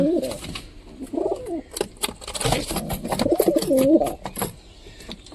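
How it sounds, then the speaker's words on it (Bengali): Pigeons squabble and coo up close, deep throaty coos broken by sharp wing flaps and scuffling bursts as the birds fight. "আর এখানে সব কবুতরগুলো মারপিট করতেছে"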